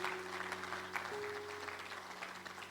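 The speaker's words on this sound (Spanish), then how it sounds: "Denle un fuerte aplauso al Espíritu Santo de Dios." Church congregation clapping during a sermon, a fairly faint, steady patter of applause with a sustained organ-like tone underneath.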